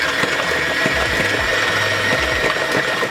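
Banana batter for banana bread whisked steadily in a bowl, a continuous loud, close whirring with a dense even texture and no pauses or talking.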